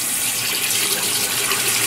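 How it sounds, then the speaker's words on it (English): Warm water runs steadily from a tap, a continuous loud broadband hiss and splash with no pauses, heard alone without talk. "warm water."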